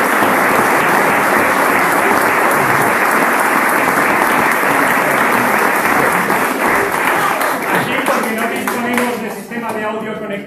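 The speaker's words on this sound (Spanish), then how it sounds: "¡Aplauso! ¡Aplauso!" An audience at a homebrewer award ceremony breaks into loud, sustained applause that continues steadily before thinning out near the end.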